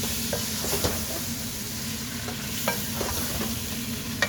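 Curry being stirred in a pan with dried lime, a steady simmering sizzle underneath and a few faint scraping strokes of the spoon scattered through.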